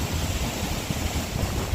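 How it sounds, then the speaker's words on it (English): Strong wind whipping along a Las Vegas street at night, buffeting the microphone as a continuous low roaring rush with gusty swells and no clear voices. "it started getting exceedingly windy. It's whipping like crazy right now."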